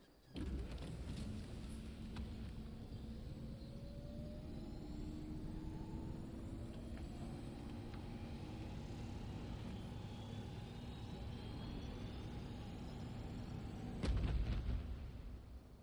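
The spaceship Unreliable climbing into orbit in The Outer Worlds: a faint, steady engine roar with slowly rising whine tones that holds throughout, then a brief louder rumbling surge near the end.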